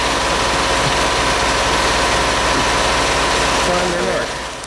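A skid steer engine runs at a steady, loud idle with a constant low rumble and vibration throughout, easing off slightly at the very end, while a person talks over it.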